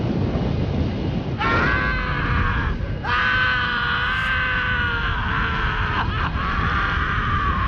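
The Joker screams in pain as flames engulf him in an incinerator in a video game, a loud, sustained, strained cry in several long bursts over a harsh, roaring background.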